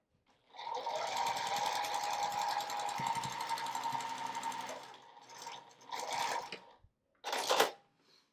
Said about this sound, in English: I'm going to start sewing a 1/4 inch seam from the top down